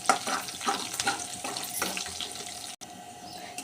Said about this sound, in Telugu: ఇది ఫ్రై అవనివ్వాలి.